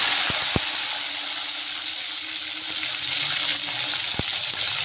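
Tomato and capsicum frying in hot oil with dried red chilli and bay leaf, a steady loud sizzle running throughout with a few sharp clicks of a utensil against the pan.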